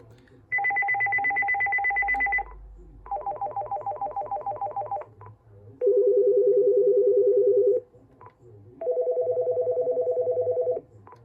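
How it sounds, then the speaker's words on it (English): A Uniden Loud & Clear CEZAI2998 desktop cordless phone plays four of its electronic ringtones in turn, each a loud, close, buzzing trill lasting about two seconds, stepping down in pitch, with short silent gaps between them. "There's only 4 ringtones on this phone."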